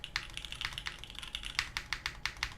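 Rapid clicky keystrokes on a custom mechanical keyboard with a big bezel, a steady patter of crisp taps with a few heavier thocks, close and fairly quiet.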